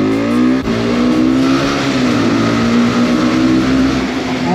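Car engine revving hard while driving, a loud, continuous roar with rising and shifting harmonic tones close by, one brief dip near the start, no voices.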